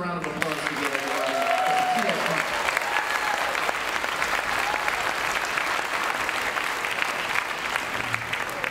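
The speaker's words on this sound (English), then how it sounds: "So put another round of applause together." Sustained audience applause for a jazz drummer at a concert, dense and steady clapping throughout with a few faint voices rising over it.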